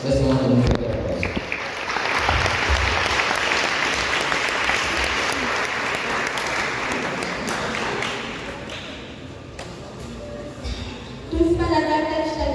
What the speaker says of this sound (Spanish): Recibámoslas con un fuerte aplauso.